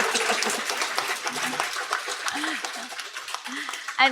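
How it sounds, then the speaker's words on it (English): Audience clapping at a live show marking 125 years of peace and justice in The Hague, a scattered round of claps running steadily under a voice talking. "We got a clap"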